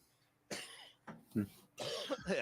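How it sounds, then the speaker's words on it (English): Several rough, raspy coughs come in quick bursts close to the listener, with brief pauses between fits. "Mad coughing."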